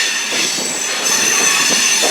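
Museum railcar 353 at the Pacific Southwest Railway Museum in Campo, California, rolls steadily along the track, its interior filled with loud continuous rumble, rattling and a faint high wheel squeal, with no voices.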